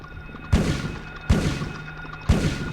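Three evenly spaced gunshots in the video game Silent Hill, each a sharp loud blast with a short decaying tail, heard alone without talk.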